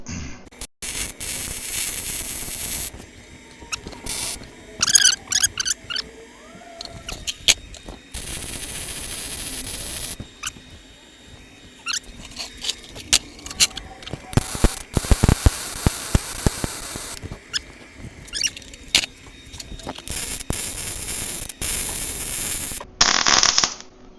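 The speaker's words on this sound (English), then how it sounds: "let's weld that up." Steady crackling and sputtering of arc welding on a metal gate runs in long bursts with brief pauses, harsh and hissing throughout, with no voices.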